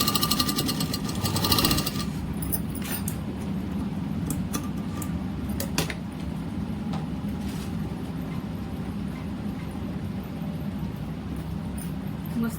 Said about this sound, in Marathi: डबल शिलाई देऊन घेते.